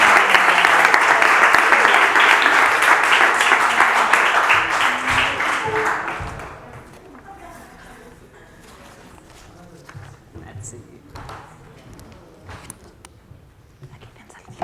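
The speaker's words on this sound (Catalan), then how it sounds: "Un aplaudiment." Audience applause for speaker Aina Tarabini at an education lecture, a loud, full burst of clapping for about six seconds that stops abruptly, followed by quiet room noise, footsteps and faint talk.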